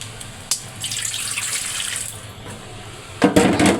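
A katla fish rinsed under a running kitchen tap, with close splashing water that swells and surges near the end.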